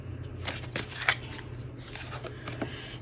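Tarot cards being shuffled and drawn from a deck, heard as close, soft riffling rustles with a few sharper snaps and taps, with no talking.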